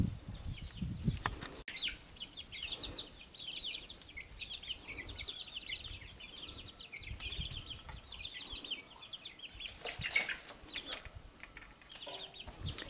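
Chicks clucking in a fenced garden run, with soft scattered peeps and clucks, occasional wing flutters and scratching close by, no voices over them.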